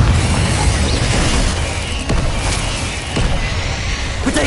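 A Confringo fire spell explodes in Hogwarts Legacy, a loud booming blast set in a thick, rumbling game soundscape, with a couple of sharper cracks following.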